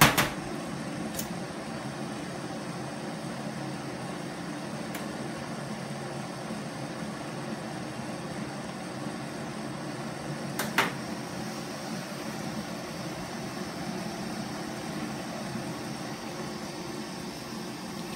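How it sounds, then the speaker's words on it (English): An MSR WindBurner all-in-one backpacking stove burns with a steady, moderate roar close by, with a couple of faint clicks and no voices. "this is the MSR wind burner, the finest all-in-one stove system that you can buy."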